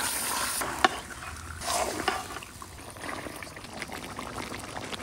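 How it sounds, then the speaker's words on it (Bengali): Rita fish going into a pan of fried spices, a soft wet sizzle and spatter with a few clinks and stirring scrapes, fairly quiet and close. "মশলা কষানো হয়ে গেছে, এখন কোডা রিডা মাছ দিয়ে দেবো।"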